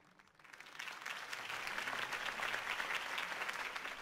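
A crowd in a Batman: The Telltale Series video game scene bursts into applause that swells quickly and holds steady, dense clapping filling the space.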